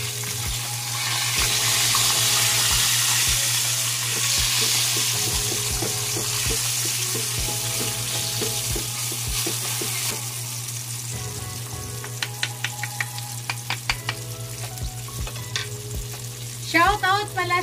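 Fish without flour fries in hot oil in a pan, a loud continuous sizzle with crackling spatters, easing after ten seconds into sparser pops and utensil clatter near the end.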